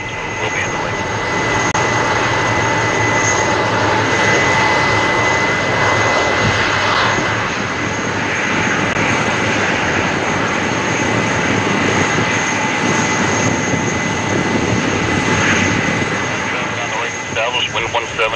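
A jet airliner rolls for takeoff at Toronto Pearson airport, a loud continuous engine roar with a steady high whine sustained throughout, heard close and without pause.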